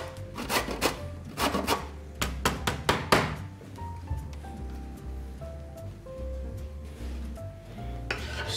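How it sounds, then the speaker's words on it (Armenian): A lemon rubbed against a grater to remove its zest in a home kitchen, making repeated close scraping strokes in uneven bursts, with faint kitchen clatter and no talk. "Այսինքն քերում ենք կիտրոնի կլեպը։"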